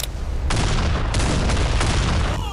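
$600,000 worth of fireworks set off at once: dense, continuous rumbling blasts and crackling bursts, loud and close, with sharp new booms landing every half second or so.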